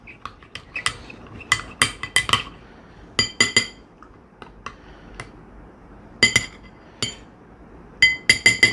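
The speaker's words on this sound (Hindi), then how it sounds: "ठीक है, इसी चम्मच से ये कर लेता हूँ मिक्स" A metal spoon repeatedly clinks against the side of a container while mixing a homemade laundry detergent, giving sharp, bright taps in irregular bursts with short pauses between them, close and fairly loud.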